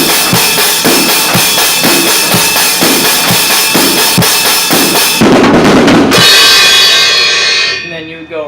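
A drum fill on a kit, with steady rhythmic beats that break into a single loud cymbal crash that rings out and fades, close and loud.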